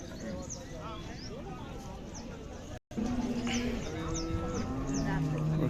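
Cattle at a Khillar cattle market, with low lowing and restless animal sounds amid a busy outdoor crowd murmur, birds chirping faintly above and people talking nearby.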